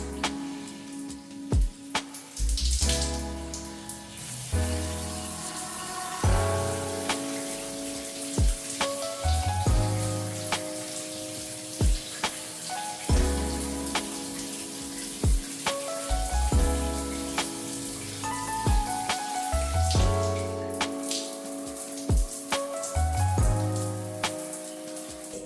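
Running water splashes steadily over hair during a wash with K18 Detox Shampoo, a continuous shower-like patter with occasional louder splashes and knocks of handling, with no voices.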